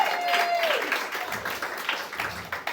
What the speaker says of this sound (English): Clap it up for your first contestant, Mike,